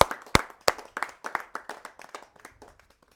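A church congregation claps in praise, starting with a few sharp, loud claps and settling into a ragged run of applause that thins and fades toward the end, with no talk.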